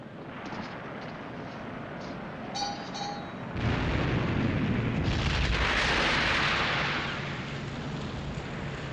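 Heavy naval turret gunfire in a 1956 film battle at sea, the Battle of the River Plate: a deep, roaring blast swells and rumbles for several seconds over constant wind and engine noise, with faint tonal signals just before.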